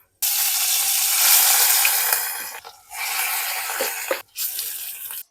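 Amaranth leaves dropped into a hot tempering of mustard seeds, cumin, onion and turmeric, a loud, bright sizzle broken by two brief pauses, probably from stirring.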